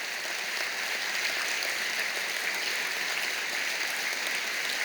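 Church congregation claps to welcome newcomers during a Sunday service, an even, continuous wash of applause from a large room, moderately distant and unbroken.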